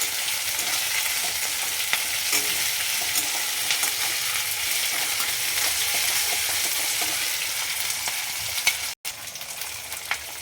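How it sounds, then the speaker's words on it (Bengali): Onions frying over a high flame make a constant close sizzle with occasional stirring clinks, briefly cutting out near the end before resuming. "আমার পেঁয়াজগুলো প্রায় ভাজা হয়ে গেছে।"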